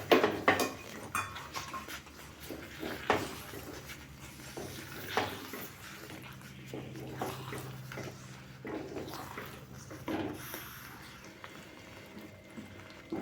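Jaggery being stirred into rajgira sheera in a pan: a spoon scrapes and clinks against the metal, with soft wet mixing sounds, fairly quiet and irregular, and no talking.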